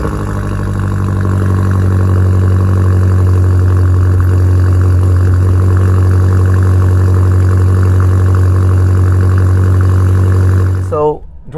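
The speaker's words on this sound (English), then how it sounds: "So we're gonna go ahead and do an emotional cold start." A BMW M8 Competition engine runs through a cold start, settling into a loud, steady, deep idle that holds for about eleven seconds before cutting off abruptly.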